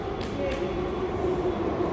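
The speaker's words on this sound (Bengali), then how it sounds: "ও যে আমাদের মেট্রো আসছে, সরে যাও।" A Delhi Metro train rumbles steadily in the background as it approaches the platform, with a faint tonal hum and a voice speaking over it.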